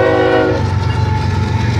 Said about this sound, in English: That's a freight train, baby.